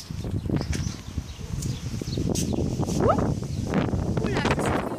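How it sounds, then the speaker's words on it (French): Gusty wind buffets the microphone in a garden, rising and falling in uneven rustling bursts, with a person speaking intermittently nearby. "le bruit, c'est le vent, hein, que vous entendez."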